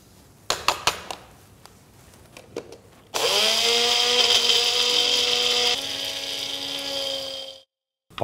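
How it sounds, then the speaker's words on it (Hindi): A few sharp clicks and knocks, then a blender grinding sesame seeds and red chilies roars to life with a steady high-pitched grinding whir, shifts pitch slightly, and cuts off abruptly. "अब इसे मैं ग्राउंड करूँगा, तो ये ब्लेंडर में तिल और लाल मिर्च निकाल लेता हूँ।"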